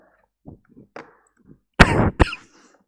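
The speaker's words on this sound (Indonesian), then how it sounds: "maaf ya batuk-batuk" A close, harsh cough bursts out, followed by a second shorter cough, after a few faint throat sounds, from a teacher during an online class.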